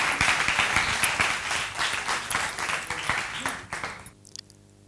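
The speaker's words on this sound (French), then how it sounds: "Sous vos applaudissements, s'il vous plaît." Audience clapping at a student journalism festival competition, a dense patter of applause that thins and stops near the end.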